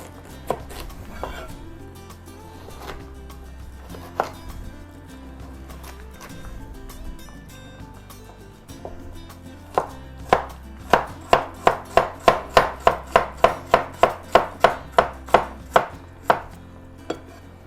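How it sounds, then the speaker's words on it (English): Knife chopping half a large carrot into small diced bits on a cutting board: scattered cuts at first, then a fast, steady run of close, crisp chops. "All that carrot's cut, all those veggies are cut."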